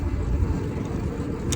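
A car passing on a street in Fort Collins, heard as a broad, rumbling road noise that holds steady through the brief moment, with no talking.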